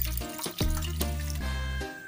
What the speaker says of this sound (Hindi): अब हम साफ पानी से इसमें जो नींबू की खटास थी उसको अच्छे से निकाल लेते हैं